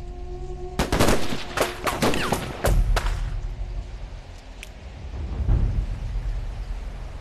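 Dense bursts of machine-gun and rifle fire in a war drama battle scene set during the anti-Japanese resistance, with sharp close shots crowding together early on, then thinning into scattered distant reports and rumbling.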